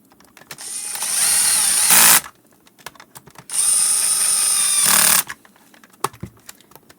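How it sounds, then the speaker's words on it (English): An electric screwdriver drives screws into a Bissell Model 22889 cordless rechargeable vacuum. The motor whirs in two steady high-pitched runs of a second or two each, separated by small clicks and handling taps, with no talking. "Make sure the clutch of your screwdriver is no more than 3 or 4."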